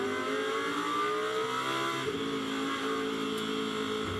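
GT2 race cars at Misano during a 2021 Fanatec GT2 European Series round, engines roaring steadily and loudly with shifting pitch as the cars pass, no talk over them.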